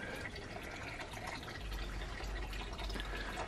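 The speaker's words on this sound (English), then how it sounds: "We have a little fountain in there too. Listening to the sound of the water." A small water fountain on a home patio trickles and splashes continuously, soft and fairly distant, with a steady low wash of falling water and no voices.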